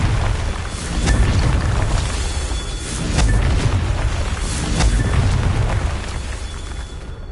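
Confringo spell explosions in Hogwarts Legacy, several deep booms rolling one after another, loud and close over rumbling game ambience.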